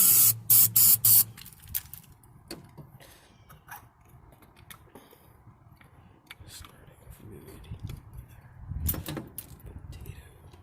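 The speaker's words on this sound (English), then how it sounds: "Got something for that. Carb cleaner, starting fluid, ether" Short bursts of carb cleaner or starting fluid sprayed from an aerosol can into the engine of a 1998 Honda Civic EX, several loud hisses at the start, followed by quieter handling noises and low talk.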